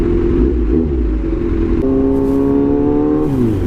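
Big bike motorcycle engine running steadily and loud, with a rising rev partway through as the rider works the clutch on a city street; no talking.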